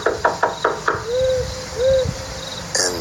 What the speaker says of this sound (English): I knocked 1 more time out of desperation,